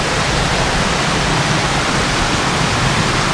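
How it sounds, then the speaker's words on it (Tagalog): Rushing river water below a waterfall in Infanta, Quezon, a loud, continuous broadband roar that stays steady and close throughout with no voices. "Naririnig na natin dito yung lagas-gas ng tubig."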